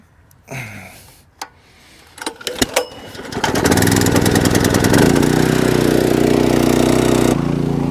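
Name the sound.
engine-driven water pump started to fill pond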